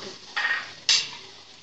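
Chickpeas tumble into a large pot of chana pulao over fried spice masala and softened tomatoes, giving two short clattering splashes close by with a faint kitchen hiss between.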